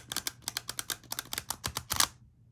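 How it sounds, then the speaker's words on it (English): Tarot cards being shuffled by hand, a quick series of crisp, close riffling snaps in a steady rhythm, ending abruptly in near silence. "you're getting a really good randomizing shuffle to the cards"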